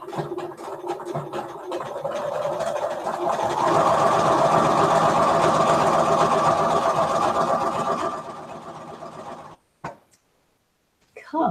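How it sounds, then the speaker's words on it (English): A sewing machine stitches small 3/4 inch fabric pieces together for quilt blocks, a steady close mechanical whir that runs for about eight seconds, then stops with a few brief clicks. "now I'm sewing my 3/4 inch pieces together"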